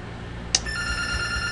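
A mobile phone rings with a sudden electronic chime, followed by a sustained tonal ringtone over faint room hum, close and clear with no talking.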